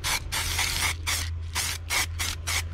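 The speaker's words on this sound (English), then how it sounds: "When we apply the base color first, then the glitter spray paint, we got a glitter effect" Glitter spray paint hissing from an aerosol can in a rapid series of short, loud bursts, about nine blasts with brief gaps between, close to the mic over a faint steady hum.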